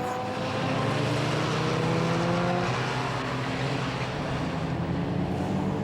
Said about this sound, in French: le simple plaisir de voir rouler des machines parfois extraordinaires, Lancia Stratos, Fraser Nash et autres Aston Martin